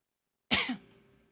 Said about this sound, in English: The young woman coughs.